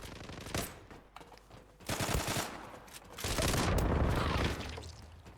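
Gunfire in the online shooter Zula rattles in close, loud bursts of rapid automatic fire with sharp single shots between them, building to a dense sustained volley, with no speech over it.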